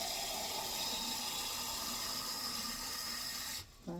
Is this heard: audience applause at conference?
no